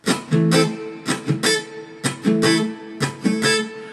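An acoustic guitar strum pattern for a song: three quick strokes with the last one muted, repeated in close clusters. The strumming is bright and close, with brief gaps between groups and no voice.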